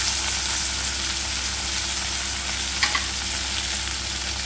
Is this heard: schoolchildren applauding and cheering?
no